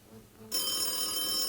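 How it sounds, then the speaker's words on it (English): A telephone starts ringing on a long-distance call from Halle an der Saale, Germany, to Oxnard, California, a sudden steady electronic tone arriving after a short quiet lead-in. "Okay, it's ringing."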